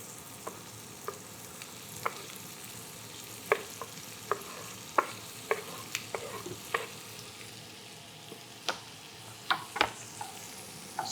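Chopped onions frying in bacon grease, a continuous sizzle broken by a dozen sharp clicks and scrapes of a utensil stirring them around the pan, close and clear with no talking.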